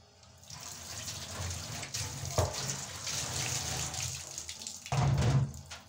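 A kitchen tap runs while something is washed under it during cooking, a steady close gush of water with splashing that shifts and swells near the end, and no talking.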